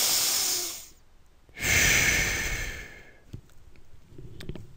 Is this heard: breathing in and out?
yes